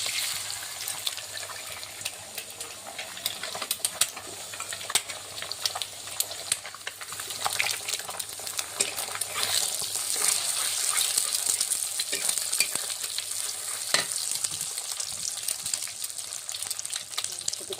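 An egg with chopped onion and green chilies fries among dhekia fern greens in a pan, giving a dense, continuous crackling sizzle that stays steady and fairly loud throughout, with no talking.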